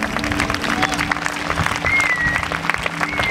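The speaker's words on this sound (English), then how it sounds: "Give him a clap." A church congregation in Mitchells Plain applauds during a sermon, a dense, sustained wash of clapping from a large crowd filling the room, with a few whistles and a cry rising over it.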